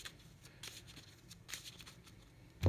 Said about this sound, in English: Do a little shuffle here.